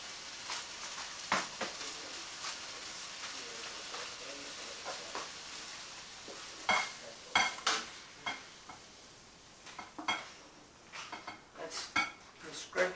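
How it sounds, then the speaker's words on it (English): Stir fry being scraped from a pan into a bowl, a series of metallic scrapes and clinks that grow busier toward the end, with faint sizzling underneath. "That's scraping it into the bowl, and then I'll mix it through the noodles."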